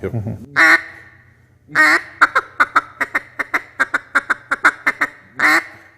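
Duck hunting call blown to imitate mallard quacks and feed chatter: a few drawn-out quacks, then a quick rhythmic run of about a dozen short, evenly spaced notes, closing with one more long quack, loud and close.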